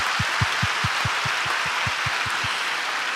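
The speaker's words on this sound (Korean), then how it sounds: "여러분 다시 한번 격려의 박수 부탁드릴게요" Audience clapping fills a church hall during a Bible recitation contest for a harvest thanksgiving service, a dense steady wash of many hands with no voices over it.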